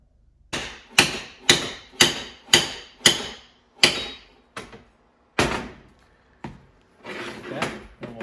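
Steel tubes for a Jeep YJ transmission crossmember are hammered together in a workshop: about seven sharp, evenly spaced metallic blows, then a few slower, scattered strikes and a brief rattle near the end.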